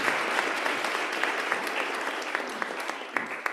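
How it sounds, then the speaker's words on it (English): A congregation at a Unitarian Universalist service applauds, a soft, sustained patter of many hands with a few sharper individual claps standing out. "Sure, clap some more"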